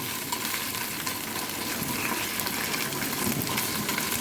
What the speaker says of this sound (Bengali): এখন রসুন বাটা দিব আদা বাটা জিরা বাটা দিয়ে সব উপকরণগুলো ভালোভাবে মিশিয়ে নেব